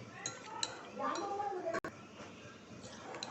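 Chicken tikka is stirred with masala in a pot, giving soft scraping and light clinks of a utensil against metal. The sounds stay faint and continuous, with brief sharper taps.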